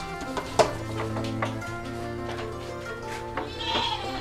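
Goats bleating on a dairy goat farm, several calls of varying pitch rising over a steady background hum, fairly close and alone with no talk.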